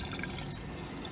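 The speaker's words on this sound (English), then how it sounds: "Here we can see that the water is still going in to the tank" Water running steadily into the tank of a fat separator for a 2NS or 3SF type oven, a continuous, fairly quiet broadband rush of filling liquid with no talk over it.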